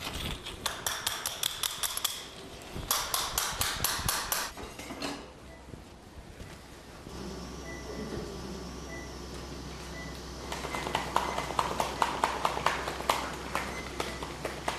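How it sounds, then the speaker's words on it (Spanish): Special rasp file driven into the femoral canal during hip prosthesis surgery on an 88-year-old patient, heard as rapid metallic tapping strikes in bursts, with a steady hum between them. "así puedo comenzar a preparar el canal con una lima"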